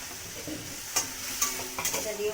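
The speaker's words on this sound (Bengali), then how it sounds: "মশলাটা খুব ভালো করে কষিয়ে নিতে হবে" Spice paste of ginger, cumin and ground nuts with tomato paste fries in a pan, giving a soft, steady sizzle broken by three brief clinks of a spoon scraping and stirring.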